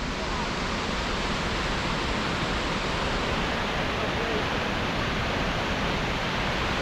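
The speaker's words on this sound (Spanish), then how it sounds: "Allí el Casaño, allí la cascada" Waterfall on the Casaño river in a mountain gorge, a dense, steady roar of rushing water that stays loud and unbroken throughout.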